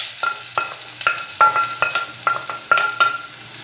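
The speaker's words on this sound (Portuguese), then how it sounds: "Deixar dar uma refogada." Three garlic cloves, two bay leaves and a red onion sauté in hot olive oil, a constant sizzle punctuated by regular, close scraping strokes of a spoon against the pan.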